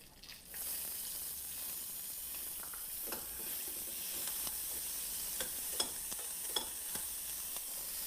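Onion frying in oil in a pan, giving a steady close sizzle with scattered crackles and pops throughout, no voices.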